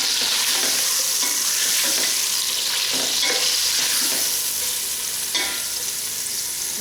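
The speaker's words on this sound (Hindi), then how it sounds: "बस ये कलर चेंज होने तक हम इसको हल्का सा भूनेंगे" Mutton paya trotters frying lightly in a pan, a steady, close, dense sizzle with occasional stirring scrapes running throughout and no voices.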